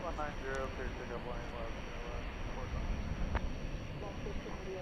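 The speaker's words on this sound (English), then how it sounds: "So there's a couple wide bodies taking off over there." Wide-body jet airliners take off in the distance at DFW Airport at night, a steady broad engine roar sustained throughout while a person talks over it.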